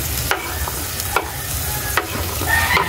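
Garlic and onion sautéing in a hot pan: a steady, close sizzle broken by a few sharp scrapes as a utensil stirs them around.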